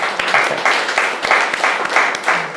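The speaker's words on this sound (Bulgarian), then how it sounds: "Тук трябва да ръкопляскаме, деца." Children clap together in a school hall at a school for hearing-impaired students, a dense rhythmic applause in regular bursts, fairly loud and close, with no voices over it.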